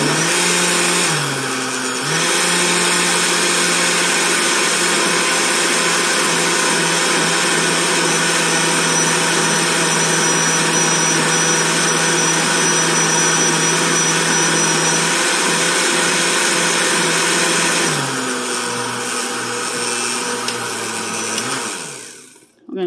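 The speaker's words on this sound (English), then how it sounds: "I put it on high for about 60 seconds. So the bananas are completely blended within to the ice cream and the milk." A blender on high blends bananas with ice cream and milk, a loud, steady motor roar running for about twenty seconds with brief dips near the start and end, close and alone.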